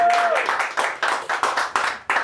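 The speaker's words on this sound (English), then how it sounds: "So please, a round of applause for Maire," Scattered audience applause for presenters at a talk on circular design, a few distinct claps in an uneven rhythm, moderately loud and close, with a voice just at the start.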